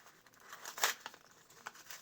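Paper crinkles and rustles as handmade paper surprise packets are unwrapped: quiet, close, uneven crackling with one sharper crunch near the middle and no speech.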